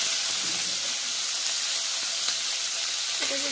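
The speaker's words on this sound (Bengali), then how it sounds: "এটাকে একটু ভেজে নেব।" Onion and garlic frying in a pan, a steady even sizzle and hiss held close throughout with a faint clink near the end.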